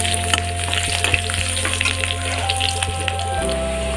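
Taro greens fry in a pan with turmeric, making a dense, continuous crackling sizzle close by. Faint scraping stirs run under it, along with a steady low hum and no speech.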